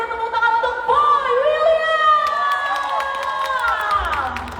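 A crowd at a live event in Medan cheers and whoops loudly for Boy William, with high excited voices rising and falling and scattered clapping mixed in.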